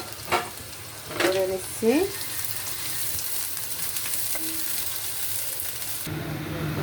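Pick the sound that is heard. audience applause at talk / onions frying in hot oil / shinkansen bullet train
onions frying in hot oil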